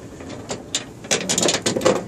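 A lock nut on a 2008 Ford F350 electronic tailgate lock is tightened with a ratchet, giving a run of sharp, close clicks that come faster toward the end.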